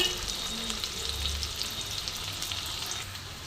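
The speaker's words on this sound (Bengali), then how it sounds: "দেখো পেঁয়াজটা একটু ভালো করে ভেজে নিচ্ছি।" Steady crackling sizzle of onions frying in oil, continuous and close, with faint stirring scrapes and no voices.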